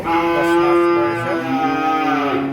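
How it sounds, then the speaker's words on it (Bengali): A Friesian heifer calf on a dairy farm moos in one long, loud, sustained call that wavers in pitch and fills the whole moment close to the listener, with no talking over it. "এই হলো আজকের একটা এক নাম্বার একটা ফ্রিজিয়ান বকনা বাছুর"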